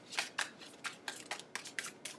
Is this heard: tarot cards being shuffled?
yes